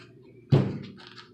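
A single hollow knock on a haunted hotel's wall, close and sharp, fading over a low steady hum with no voices.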